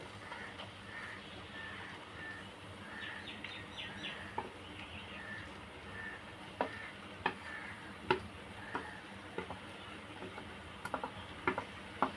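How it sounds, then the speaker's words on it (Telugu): Green chillies and onions fry in hot oil for a spicy chicken curry, a steady soft sizzle running throughout with occasional sharp ticks and clicks of stirring growing more frequent toward the end. "ఆయిల్ వేడెక్కిన తర్వాత గ్రీన్ చిల్లీ, ఆనియన్ యాడ్ చేసుకోవాలి"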